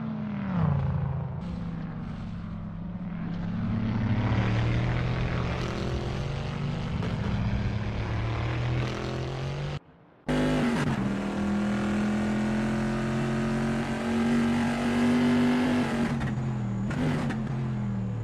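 A Bizzarrini GT 5300 race car in a racing video game at Imola's Tamburello, its engine droning loud and close with rising pitch as it accelerates, a brief gap, then another sustained revving pass.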